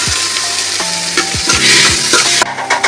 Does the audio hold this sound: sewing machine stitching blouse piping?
no